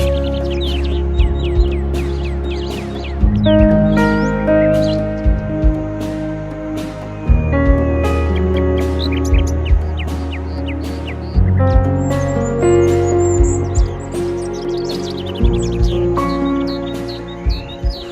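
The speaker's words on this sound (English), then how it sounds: "The babbles of birds and rustle of fallen leaves underfoot greet my ear" Many birds call and chirp in an autumn forest in Washington, bright overlapping tweets and trills close by, with steady background noise underneath and no voices.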